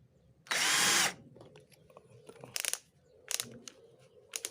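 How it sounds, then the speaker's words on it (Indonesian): A cheap cordless multi-function drill bores into a wall in drilling mode, one loud high-pitched whine lasting about half a second, followed by quieter clicks and short rattling bursts. "Kita coba memang menggunakan fungsi drilling."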